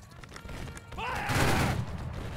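Musket volley in a Civil War video game: a burst of rifle fire crackles together around the middle, with game shouting and background noise underneath.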